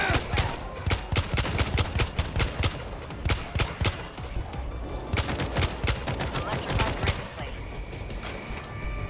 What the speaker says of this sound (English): I got us an auto turret. This'll help keep it back.